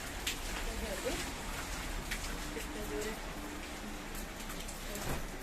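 Heavy rain pours down in a steady, dense hiss of drops hitting surfaces, loud and close throughout, with faint voices now and then beneath it.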